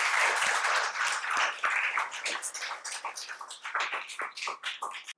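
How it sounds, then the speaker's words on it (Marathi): An audience at a seminar session claps loudly for the Indian Navy, a burst of dense applause that gradually thins into scattered individual claps over about five seconds. "एकदा इंडियन नेव्हीसाठी आपण जोरदार टाळ्या देऊया."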